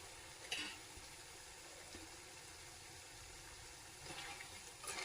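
Cauliflower pieces for gobi 65 frying in hot oil, a steady soft sizzle with faint crackles and a few stirring bumps, close and continuous without voices.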